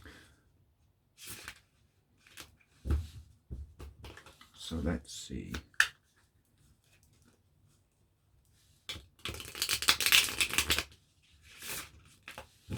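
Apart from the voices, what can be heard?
shuffling tarot cards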